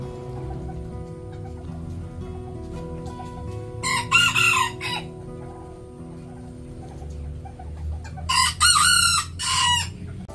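Standard bantam chickens in a cage, with two loud nearby crows standing out over a steady backdrop of low clucking and murmuring from the flock.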